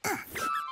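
A short cartoon car horn squeak from a grandma's purple car in a children's animated show, a single bright, wobbling honk lasting under a second, heard alone.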